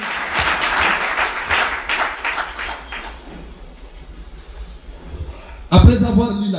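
A church congregation applauds loudly for several seconds, the clapping thinning out and fading, before a voice speaks over the room.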